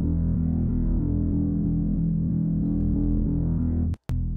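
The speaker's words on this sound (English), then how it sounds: "For bass in the verse section, I added a sub bass, sort of pulsing, following our root notes." A pulsing sub bass in FL Studio tracks the root notes of a verse, played dry without effects; a deep, steady low drone throbs continuously and loudly, then cuts off briefly near the end before returning.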